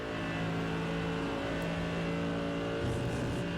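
Mercedes GT3 race car at full throttle in a racing video game at Road America, a loud sustained engine roar holding steady, with a slight shift in pitch near the end and no talk.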